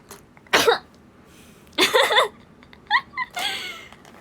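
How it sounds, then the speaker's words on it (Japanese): A young woman sneezes twice, each a short sharp burst close to the mic, separated by quieter breathy sounds and small vocal noises in a quiet room. "くしゃみ失礼しました"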